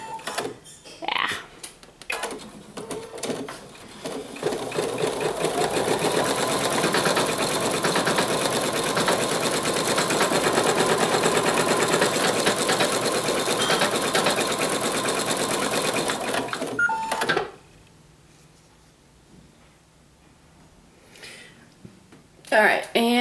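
A sewing machine stitches an owl mug rug in one continuous run of rapid mechanical whirring lasting over ten seconds, then stops abruptly, with a few handling clicks and knocks before and after.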